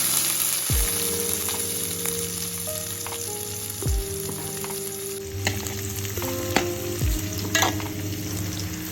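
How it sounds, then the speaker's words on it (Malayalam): Chopped shallots, garlic and dried red chilies fry with mustard seeds in hot oil in a pan, a continuous close sizzle with occasional stirring scrapes and faint music, and no talking. "ഒരു ചട്ടിയിൽ എണ്ണ ചൂടാകുമ്പോൾ കടുക് ഇട്ടതിന് ശേഷം ഈ അരിഞ്ഞ ചെറുതിലിട്ടെടുക്കുക."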